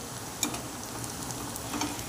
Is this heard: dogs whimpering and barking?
no